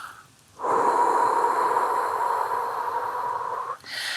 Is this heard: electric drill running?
no